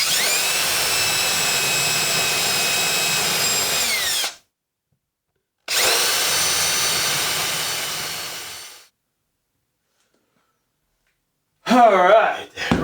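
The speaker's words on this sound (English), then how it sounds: "I'm lining up one hole where I want it, and then I'm going to drill one above and below" Power drill boring shelf pin holes into wooden pantry shelf panels, with tape marking depth; two sustained whining bursts of several seconds each with a pause between, then a short rough burst at the end.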